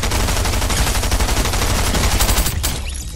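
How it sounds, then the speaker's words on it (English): Rapid, loud bursts of automatic gunfire in Fortnite crackle continuously for a few seconds, then cut off abruptly into a brief quieter tail. "Whoa, somebody's shooting at me."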